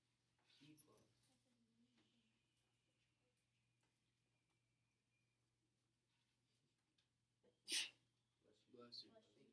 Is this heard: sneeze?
yes